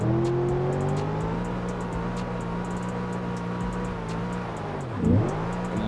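Turbocharged truck engine in BeamNG Drive revving hard during a burnout, a steady loud drone with rising pitch, a sharp dip and surge near the end, with faint ticking clatter over the top.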